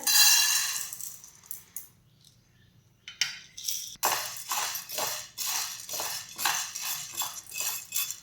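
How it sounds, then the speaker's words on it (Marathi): Dry sago pearls being roasted and stirred in a pan for a fasting paratha, a close, steady rattle of small grains scraped by a spoon, with a quieter pause before the stirring resumes in repeated strokes. "दोन मिनिटे आपल्याला साबुदाणा छान हलकासा असा भाजून घ्यायचा आहे।"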